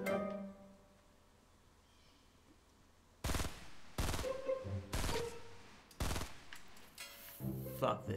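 Bursts of gunfire in the Fortnite video game: after a quiet stretch, several loud rapid-fire volleys crack out in separate clusters, with brief gaps between them.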